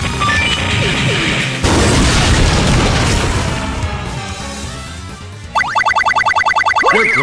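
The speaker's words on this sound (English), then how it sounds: "Laser gun." Laser gun fire and explosions from the Metal Slug 6 video game build a dense, continuous barrage of loud crashing blasts. Near the end, a run of rapid, evenly spaced electronic zaps breaks through.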